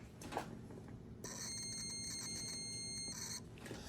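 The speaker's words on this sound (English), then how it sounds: "I'm gonna turn it to continuity. And what that means is when these two touch each other, a little sound goes off." A multimeter set to continuity beeps as its probes touch while a car fuse is tested: one steady electronic tone lasting about two seconds over faint background noise.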